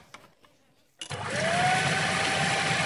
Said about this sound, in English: I close my blender and blend for about a minute.